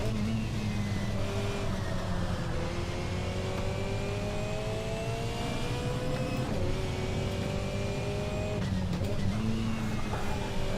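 Race car engine in the Assetto Corsa racing game, revving high and steady with rising and falling pitch through gear changes, continuous and close for the whole stretch.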